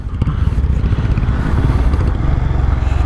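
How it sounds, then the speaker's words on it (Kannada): A motorcycle ridden through a forest at midday, its engine a loud, close, rumbling drone with rattling clatter, steady throughout. "ಅಂಕಲ್ಗಳು ಬೈಕ್ ಓತಿರ್ತಾರೆ ನೋಡು"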